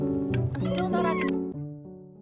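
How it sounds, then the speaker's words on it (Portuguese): A cat meows inside the video game Before Your Eyes, one drawn-out meow with a rising and falling pitch, heard close and clear over steady game music. "Gatinho."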